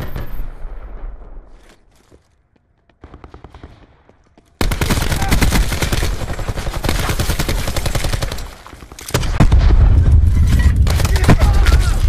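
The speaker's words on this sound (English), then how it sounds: "Nine bang going in." A nine-bang stun grenade in Black Ops 4 going off in a rapid string of sharp cracking bursts, loud and close, following a quieter stretch with distant gunfire.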